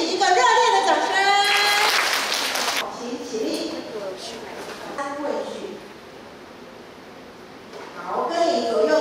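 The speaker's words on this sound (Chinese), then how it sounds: "我们给自己一个热烈的掌声" A group at a youth activity in Sanmin, Kaohsiung claps for itself in a loud, dense burst lasting a second or two, with talking before it and voices continuing afterward.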